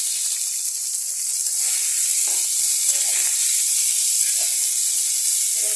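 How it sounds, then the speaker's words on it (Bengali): Steady hiss of food frying in a pan, a constant bright sizzle with faint crackles running throughout, no voices. "ভাজা করার জন্য 2 মিনিট রেখে দিতে হবে"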